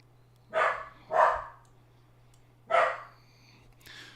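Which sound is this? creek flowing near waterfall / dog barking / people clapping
dog barking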